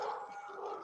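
A household's dogs let out a short, sustained howl, close by and steady in pitch, lasting under a second.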